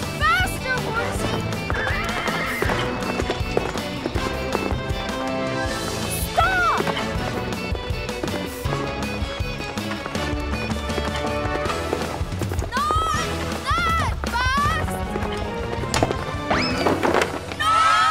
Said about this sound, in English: Faster, horsey!